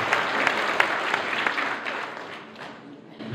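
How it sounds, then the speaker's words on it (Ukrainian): A hall full of people applauds steadily at a motorsport award ceremony, the dense clapping loud at first and tapering slightly toward the end. "Вітаємо оплесками."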